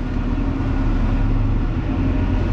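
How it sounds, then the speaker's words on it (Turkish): A car engine idles and rumbles steadily at close range as the vehicle is backed up and parked outdoors on a windy, dusty day, a low continuous hum with no talk. "Geri bırakayım arabayı bu tarafa."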